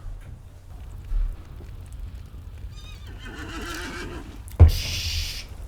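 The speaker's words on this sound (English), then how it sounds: "Oh, it's a horse." A horse whinnies in the Lord of the Rings Online video game, a wavering neigh followed by a sharp, loud snort near the end, with faint hoofbeats and game ambience underneath.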